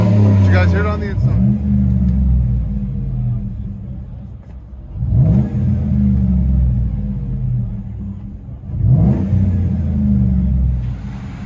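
A 2009 Chevy Avalanche 5.3L V8 with a 6-inch lift and Flowmaster Super 10 dual exhaust rumbles deeply at idle, with three brief blips of revving spaced evenly through the steady low drone.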